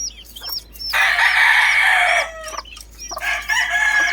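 Cockerels in a backyard crowing loudly and close by, two long cock-a-doodle-doo calls with short clucks and squawks between them, with no voices.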